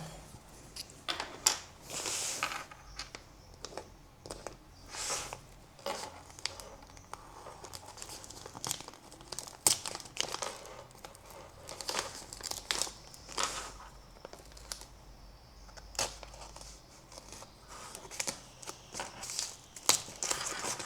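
Packaging is torn and crinkled up close in irregular bursts of rustling, crackling plastic and paper, with short pauses between pulls.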